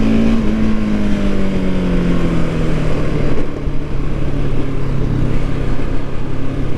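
Husqvarna 701 Supermoto single-cylinder motorcycle engine droning steadily on the road, its pitch easing slightly lower over a few seconds, with wind rushing across the microphone throughout and no talking.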